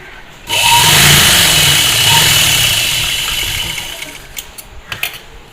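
A sewing machine stitches down the folded pocket edge of a jubba, a steady mechanical whirr running close and fairly loud for about three and a half seconds, then fading into a few short clicks and taps with no talking.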